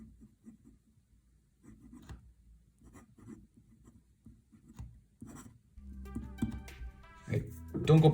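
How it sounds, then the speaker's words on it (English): Pen writing on a wooden surface, with soft intermittent scratching strokes in short bursts, quiet and close, followed by louder handling noises and a voice toward the end. "Don't go by the sound because I'm writing on a wooden surface over here."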